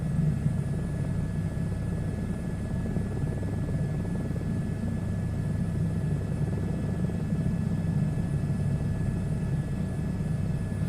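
A helicopter in flight in the SU2 beta flight simulator, cruising about 1,000 feet above ground, gives a steady, loud, continuous rotor and engine drone that holds without change throughout, with no talking.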